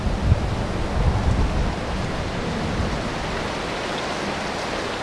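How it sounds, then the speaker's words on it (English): Steady rain falls in the Yakushima forest in Japan as a dense, even hiss, close and constant, with no other clear sounds. "Rain arrives."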